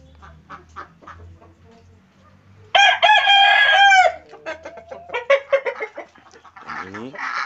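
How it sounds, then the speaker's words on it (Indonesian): A Bangkok rooster crows loudly and close for about a second, set among sharp clucks and other fowl calls from a yard holding dozens of chickens, with faint background chatter. "Ini juga ayam terbaru."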